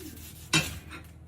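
A single sharp knife cut into a hot, crispy oven-baked potato, with a brief crunch and a softer follow-up scrape, close and alone.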